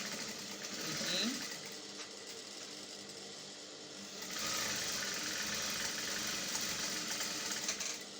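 A sewing machine runs a seam on a shirt dress with a steady, close mechanical whir that keeps going for most of the clip and grows louder in its second half.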